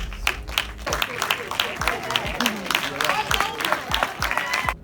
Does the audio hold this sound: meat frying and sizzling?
no